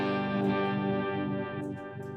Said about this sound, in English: When I hit snapshot up, it's going up into the drive, into the crunch setting